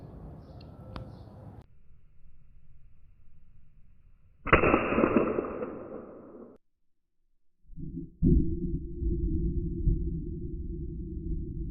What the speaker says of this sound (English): Now, let's try these out. These are the exploding pellets.